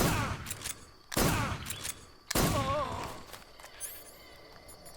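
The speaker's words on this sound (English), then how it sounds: "I'm gonna have to shoot him now." Gunfire in Metal Gear Solid 3 on PS3, three loud sharp shots spaced about a second apart, each with a ringing tail, followed by softer game ambience and faint chirps.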